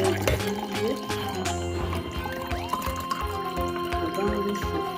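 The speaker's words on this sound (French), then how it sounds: "je vais mettre donc la quantité d'eau" Water is poured into a container to make homemade nut milk, a gurgling trickling flow with small drips and knocks close by, with a person speaking over it.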